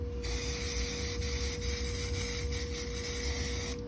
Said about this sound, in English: I'm going to go through and just spray this